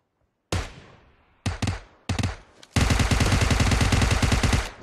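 Gunfire in the PUBG Mobile video game: a few single loud shots with short tails come first, then a sustained rapid burst of automatic fire, close and punchy.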